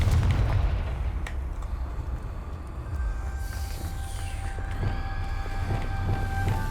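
Confringo spell explosion in Hogwarts Legacy, a loud deep boom opening the moment and then fading into a long rumbling tail with faint tonal ringing, no speech over it.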